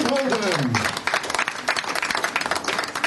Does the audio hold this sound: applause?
yes